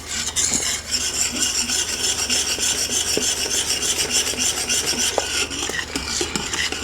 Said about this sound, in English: I like using a whisk when I'm adding my pectin